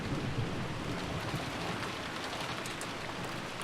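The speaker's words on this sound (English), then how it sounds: "Then came the sound of thunder, and the sound of the falling rain and wind." Steady, dense rainfall hisses with wind in the Umineko visual novel, a continuous broadband wash with a low rumbling undertone of thunder, loud and unbroken with no voices.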